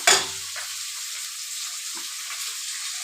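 Tangra fish bones frying in a pan give a loud burst of sizzle at the start, then settle into a steady, close crackling hiss with a few soft stirring touches, and no voices.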